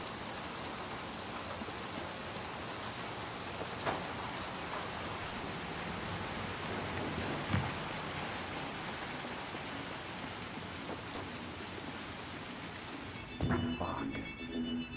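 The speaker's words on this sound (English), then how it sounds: "Oh, it's so rainy." Steady rain pours down throughout a scene in the horror video game Little Nightmares 2, a dense hiss with occasional louder drops and knocks, ending in a brief clatter.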